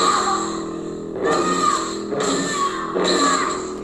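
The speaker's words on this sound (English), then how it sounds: "That's the sound of younglings being slaughtered by Anakin." Lightsaber sound font on a converted Starkiller saber, a dark, harsh, chaotic effect with layered buzzing tones that swell in three loud bursts over a steady hum, playing alone without talk.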